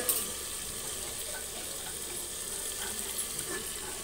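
Drumstick vegetables, potato, eggplant and bitter gourd with mustard paste fry in a pan for Bengali sajne data chorchori, giving a steady close sizzle and hiss throughout with no voices.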